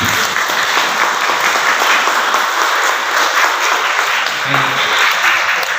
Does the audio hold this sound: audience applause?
yes